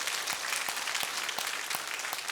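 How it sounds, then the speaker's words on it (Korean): A church congregation at a baptism service claps together, a dense, steady applause of many hands with no talking over it. "우리 다 같이 박수하겠습니다"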